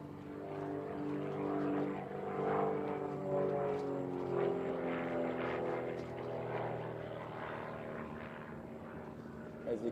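A propeller aerobatic plane flies a Sportsman-category known sequence at a national championship contest, its engine droning and shifting in pitch as it loops and rolls, heard at a distance and moderately faint, without speech.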